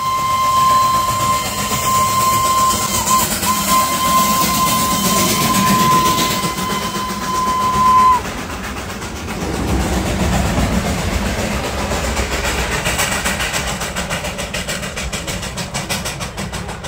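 The Darjeeling train at Batasia Loop rumbles steadily nearby, a continuous low engine drone with a long sustained whistle tone for the first several seconds, then the rumbling carries on alone.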